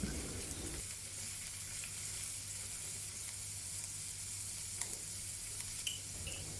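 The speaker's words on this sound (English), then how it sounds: "Then add the garlic and ginger and saute until aromatic" Garlic and ginger sautéing in ghee in a pan over medium heat for samosa filling, a faint continuous sizzle and hiss with a couple of small clicks, heard alone without talk.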